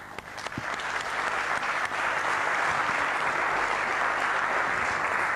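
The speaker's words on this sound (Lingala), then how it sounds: "Nous allons donc applaudir Koffi Olomide." Audience applause for Koffi Olomide on a 1999 TV stage, a steady dense clapping that swells within the first second and holds loud and even throughout.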